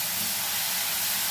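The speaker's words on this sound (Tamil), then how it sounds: "இந்த கேரட்டை நல்லா வதக்கி விடுங்க" Carrots sautéing in a pan while being cooked down for carrot halwa, giving a steady close hiss of frying with no breaks and no voices.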